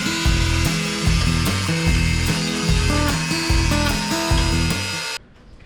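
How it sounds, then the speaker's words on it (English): Angle grinder with a cutting disc slicing through an aluminum dashboard sheet for a rock buggy, a loud, sustained whine with pulsing, stepped tones that stops abruptly near the end, no talking. "So here you can see that really fine dust or shavings that comes off with the grinding disc."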